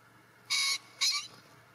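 A male green pheasant gives two sharp, harsh call notes in quick succession, fairly close and loud against a quiet outdoor background.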